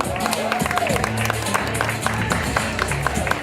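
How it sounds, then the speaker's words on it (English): Applause for a contestant at a school word parade: a short burst of steady clapping from a crowd, fairly loud and continuous, with a voice mixed in. "Let's give him another round of applause"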